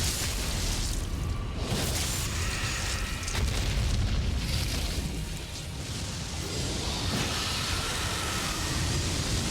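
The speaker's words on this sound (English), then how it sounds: "This nuclear belly explosion, very bad for me." A boss's nuclear belly explosion in Elden Ring: Shadow of the Erdtree, heard as a sustained, loud, rumbling blast with broadband roar and deep low-end booms throughout, no voices over it.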